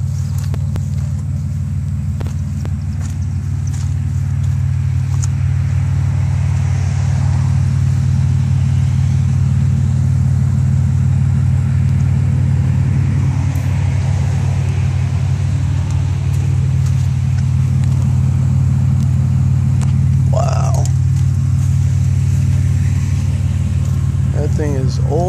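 A 1960s Cadillac, off the road since 1979, idles with a steady deep rumble throughout, loud and close, while people talk over it.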